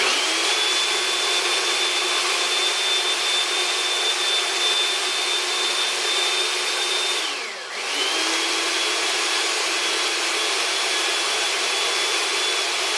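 Electric blender whirring steadily as it blends spices for a St. Louis style rib rub, a loud continuous motor whine with a brief dip and slowdown midway before spinning back up, no talking.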